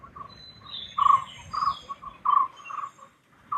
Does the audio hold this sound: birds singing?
yes